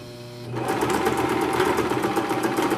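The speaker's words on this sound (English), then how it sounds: "And I'm gonna sew that." A sewing machine starts up and stitches a quarter-inch seam in a pleated fabric face mask, running as a fast, steady mechanical whir and rattle close by after a brief quiet moment, with no talk.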